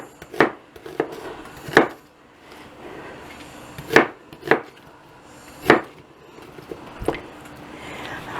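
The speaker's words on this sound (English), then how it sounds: "I'm just going to roughly chop it up." A knife roughly chops ingredients for an Instant Pot beef stew on a cutting board, several sharp, irregular thuds spaced a second or so apart with quiet gaps between.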